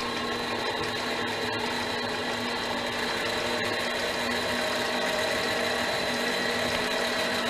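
A metal lathe at about 500 RPM taking a ten-thousandths cut on a 5/8-11 die holder, a steady whirring machine tone with fine tonal whine running evenly throughout, close and alone with no talk.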